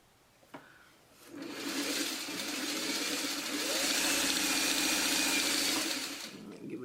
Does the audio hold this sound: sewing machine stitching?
yes